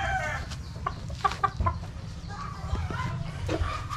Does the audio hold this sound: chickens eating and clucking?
yes